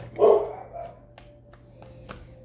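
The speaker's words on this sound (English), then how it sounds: "That's my dogs. They're just saying hi to everybody." Pet dogs bark in a single short burst near the start, then fall quiet under a steady low hum and faint background clicks.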